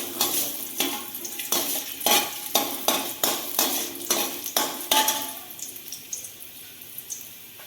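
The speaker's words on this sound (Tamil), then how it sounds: "எண்ணெய் சூடான உடனே 6 பல் பூண்டு சேர்த்துக்குங்க. கொஞ்சமா இஞ்சி சேர்த்துக்குங்க. ரெண்டும் சேர்த்து வதக்கி விடுங்க." Garlic cloves and a little ginger sautéing in hot oil for tomato kurma, with a quick, regular rhythm of spatula strokes scraping the pan about three times a second over a close sizzle.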